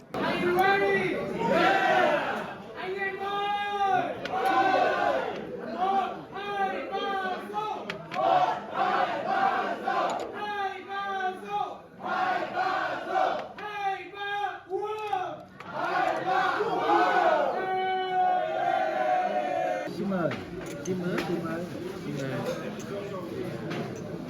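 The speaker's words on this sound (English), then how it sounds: "we usually get mixed with other groups during lunch and dinner, so it's a crowd tonight" Diners at a crowded hot pot dinner on a cold evening during a Ha Giang Loop tour in Vietnam chat over each other, a continuous babble of close and nearby voices with laughter and exclamations rising and falling.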